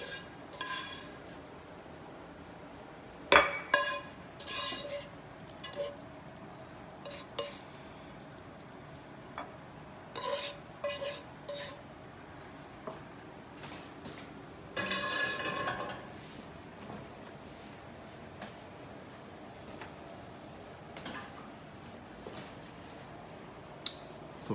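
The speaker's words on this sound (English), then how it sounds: "I'm using a slotted spoon so we get the real cabbage rolls" A slotted spoon scoops cabbage rolls out of a pot of soup, with scattered clinks and scrapes of metal against the pot, separated by quiet pauses.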